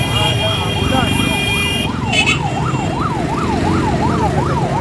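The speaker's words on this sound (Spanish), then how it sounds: "Hay una ambulancia también que tienen que agilizar para que den pase a la ambulancia." A wailing ambulance siren rising and falling steadily through congested afternoon traffic on a bridge under repair, loud over engine rumble and road noise, with a brief higher-pitched burst partway through.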